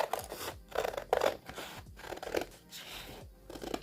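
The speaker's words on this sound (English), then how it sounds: "Then I'm going to cut around it." Scissors cut around the cardboard lid of a kleenex box with repeated crunchy snips in an uneven rhythm, close and clear, with no talk.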